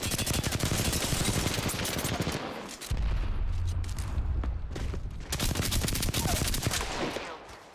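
Dense bursts of automatic gunfire crackle loudly in a video game firefight, with rapid repeated shots, a brief lull near the three-second mark, then more sustained shooting and scattered single cracks.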